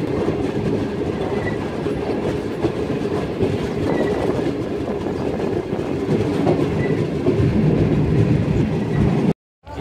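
Passenger train travelling on the Karachi to Lahore railway near Okara, a loud continuous rumble of wheels on track with steady clickety-clack heard from inside the carriage, cutting off abruptly near the end.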